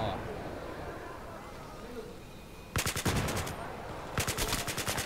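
Two rapid bursts of automatic gunfire in Battlefield 3, sharp and repeated, over a low rumbling game background.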